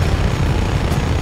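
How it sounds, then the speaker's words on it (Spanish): A helicopter in the open-world action game Just Cause drones loudly and steadily with a dense rotor rumble for about a second. "Helicóptero."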